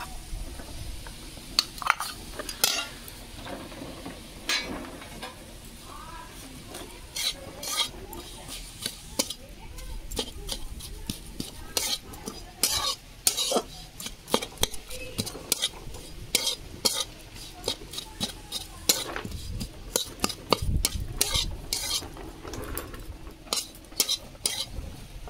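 Coconut and jaggery filling being stirred in a wok, with repeated sharp scrapes and clinks of a spatula against the metal over a soft sizzle, irregular and close, continuing for a long stretch with a cough or two.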